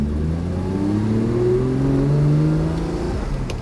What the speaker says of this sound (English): Foot's on the accelerator. Let's go. First gear.